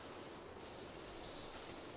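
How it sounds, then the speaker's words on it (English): A power washer sprays steadily in the video game PowerWash Simulator, a constant broadband hiss with a faint brief dip partway through, heard alone without any talking. "So, spraying around here."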